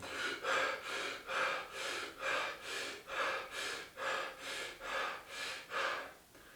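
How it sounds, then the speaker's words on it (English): About a dozen quick, panicked breaths drawn high into the shoulders and chest, each a rough airy rush in steady rhythm, close and fairly loud, with no talking over them. "So clavicular breathing is a panicked form of breathing"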